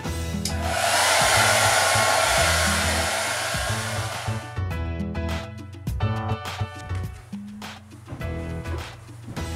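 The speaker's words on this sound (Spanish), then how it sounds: "Luego me seco mi pelo con un secador." A hair dryer blowing steadily as hair is dried, loud and close for a few seconds before switching off, followed by faint handling and clatter.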